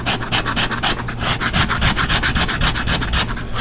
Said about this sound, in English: you can come back with your knife and kind of scrape up those loose fibers